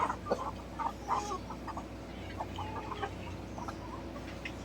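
Several chickens cluck and squawk in short bursts over a steady low hum on a farm, fairly close and continuing throughout.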